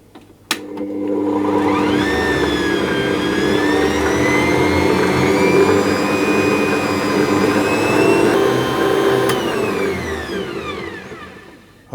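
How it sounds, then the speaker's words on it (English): Electric hand whisk beating butter and icing sugar together into shortbread dough, a steady loud motor whine with rising and falling pitch that runs for about ten seconds before switching off. "I'm going to add in my icing sugar a little bit at a time and whisk it to get that fully combined"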